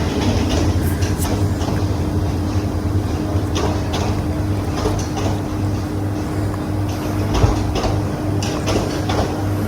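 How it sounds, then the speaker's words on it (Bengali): A train arrives at Bonarpara station in Bangladesh with a continuous heavy rumble, low engine hum and scattered clacking of wheels over rail joints, steady and fairly loud for the whole stretch, with no voices. "এই তো ট্রেন অলরেডি চলে আসছে"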